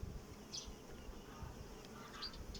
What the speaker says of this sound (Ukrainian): А тут молодої пчели багато і закриваємо.